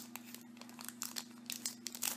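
A package of sticker paper is torn open by hand: soft, close crinkling and tearing of the wrapping over a steady low hum, with no talk.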